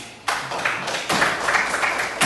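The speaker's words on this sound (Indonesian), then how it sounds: "Tepuk tangan." A classroom of students breaks into applause, a burst of dense clapping that starts suddenly, swells again partway through and continues to the end at moderate loudness.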